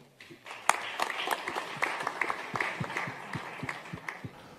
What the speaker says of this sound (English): A big round of applause, please, for Russell Peltz.